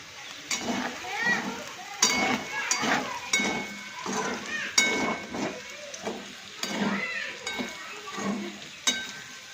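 Potatoes fry for aloo bhujia in a pan over a lowered gas flame, some sticking to the bottom: a steady sizzle broken by regular scraping stirs, close, with a voice talking over it.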